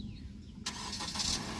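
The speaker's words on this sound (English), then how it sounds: "and the car turns on" A car engine starting by remote start. Faint quiet outdoor ambience gives way to an abrupt crank and catch, then a steady idle hum with a brief rise, heard from close by and without speech.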